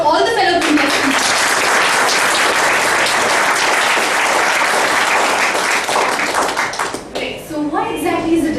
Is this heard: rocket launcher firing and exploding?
no